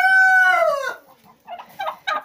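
Leghorn hens and turkeys in a coop: a loud, drawn-out harmonic poultry call fades after about a second, followed by several short, scattered clucks nearby.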